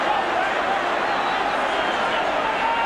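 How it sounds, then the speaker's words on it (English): A stadium crowd at an Everton v Liverpool First Division football match in 1982–83 hums with a steady, broad murmur of many voices, dense and continuous throughout with no single shouts standing out. "The ground is humming now as the crowd debate that."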